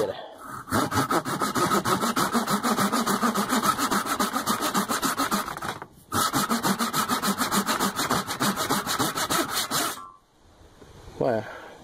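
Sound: Japanese saw cutting pine wood

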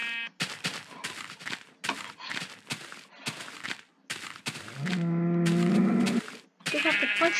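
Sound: sheep bleating in the video game Minecraft beta

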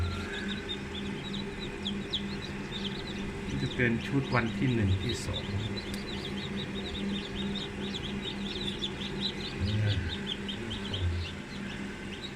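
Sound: chicks chirping

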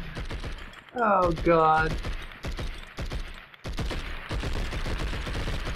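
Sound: AK gunfire shooting at a blimp in Blood and Bacon video game

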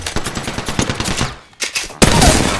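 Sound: gunfire from Apex Legends video game

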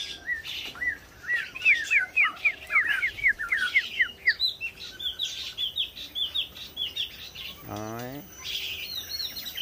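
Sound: tame tiểu mi songbird singing many varied calls

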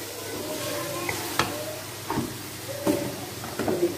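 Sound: liver frying and stirring with red chili in a pan

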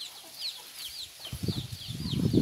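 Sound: chickens clucking as they climb the tree

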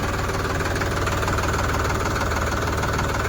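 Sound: tractor engine running

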